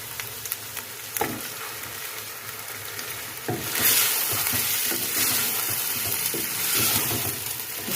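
Mutton sizzles in hot masala with garlic and ginger, a close, steady frying hiss broken by scraping stirs, growing louder and fuller midway through.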